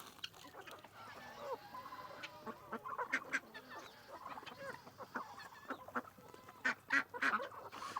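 A flock of young barnyard fowl, some crossbred, cluck and honk in a busy, overlapping chorus, with calls coming near and far in irregular bursts that grow louder toward the end.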